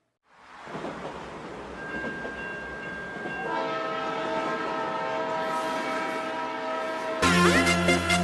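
A train horn blasts as a sound effect for a children's cheer song, rising over a rumbling rail noise, a sustained, loud tone that swells and ends in a brighter final blast.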